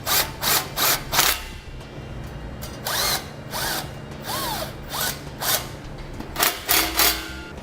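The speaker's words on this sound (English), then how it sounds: "You can begin to tighten down those screw clamps." Power tool driving screw clamps on Air Lift LoadLifter 5000 air helper springs on a 2012 vehicle: repeated short whirring bursts in an uneven rhythm, close and fairly loud, with no talk.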